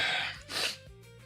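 A single sharp, breathy sneeze bursts out close by, followed by a short exhale and quiet.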